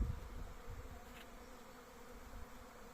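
A honey bee swarm settles onto an empty hive holding about five frames, its dense, steady buzzing a continuous low hum that stays close and fairly quiet throughout, with no voices.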